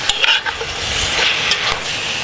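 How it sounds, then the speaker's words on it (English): Seasoned chili meat, three packages salted, being mixed in a Dutch oven: loud close scraping stirs over a constant sizzle, no voices. "we'll take a little bit of salt and kind of mix it up in there."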